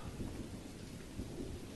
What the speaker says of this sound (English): Bad thunderstorm.